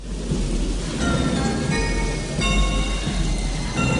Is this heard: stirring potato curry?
no